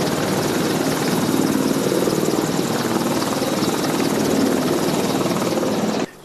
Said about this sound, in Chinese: 这只阿帕奇攻击直升机也稳稳的降落。